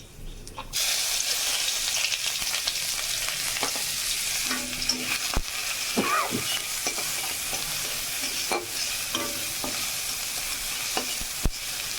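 Chopped onion and garlic sizzle in hot oil with panch phoron while being stirred, a steady loud fry with intermittent scraping strokes and occasional sharp clinks of the utensil against the pan.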